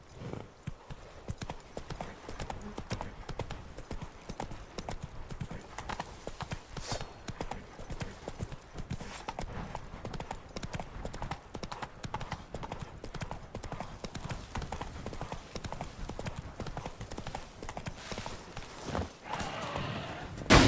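Rapid clip-clop hoofbeats of a horse galloping in The Witcher 3 pound steadily throughout, close and continuous, with a faint whinny-like sound near the end.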